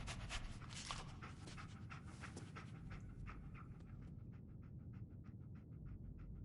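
Dogmeat, the dog companion in Fallout 4, pants in a quick steady rhythm, close and breathy, with the panting growing sharper and more distinct toward the end over a low background rumble.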